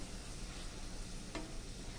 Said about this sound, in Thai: ลวนหมูให้สุกนะทุกคนแล้วก็เอาตับใส่ไปนะทุกคน